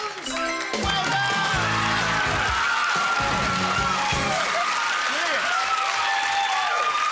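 Studio audience applause on a TV game show, loud and continuous under a host's talking and over bursts of music and show sound effects.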